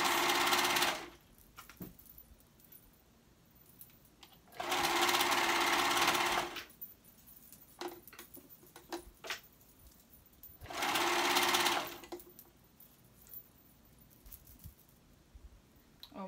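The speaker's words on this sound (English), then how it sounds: "If you don't have a serger, I'm telling you, serger is the way to go." A serger overlocker stitches hoodie seams in three loud, fast whirring bursts a few seconds each, separated by quieter pauses with small handling clicks and rustles.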